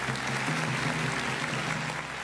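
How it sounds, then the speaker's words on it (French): Steady applause from an audience during a French-language talk fills the whole moment, dense and even, with a low hum running underneath. "Aidez-moi avec des applaudissements,"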